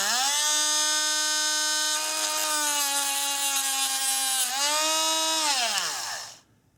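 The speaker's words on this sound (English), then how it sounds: "I'm just going to score a little mark with a Dremel" A Dremel rotary tool scores a mark on metal during a differential seal job: a steady high whine holds for several seconds, dips briefly, then winds down and stops.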